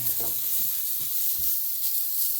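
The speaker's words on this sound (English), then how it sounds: "He's capturing the sizzle." A steady, bright hiss of food sizzling in a pan at a cabin in Death Valley fills the clip, with a few low soft thumps underneath.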